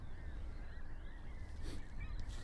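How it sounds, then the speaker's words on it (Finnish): Faint geese honk in the distance, several overlapping calls over a steady low background hum. "kun nuo linnut tuolla pitää meteliä"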